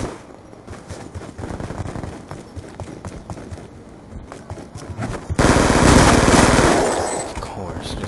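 Rapid automatic gunfire in the Call of Duty Black Ops 2 multiplayer shooter, dense bursts running throughout and swelling louder near the end, with game announcer voice lines mixed in.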